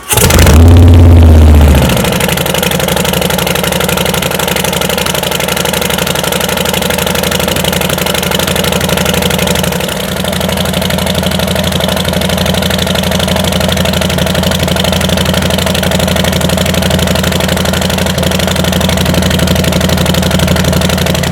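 Harley-Davidson Softail Slim fitted with 3.5-inch Rinehart slip-on mufflers starting up with a loud burst, then settling into a steady, close, deep loping idle that carries on throughout.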